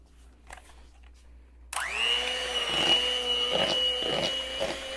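An electric mixer starts abruptly after a quiet moment and whirs steadily through peanut butter cookie dough, its motor tone holding high with periodic thumps as the beaters churn.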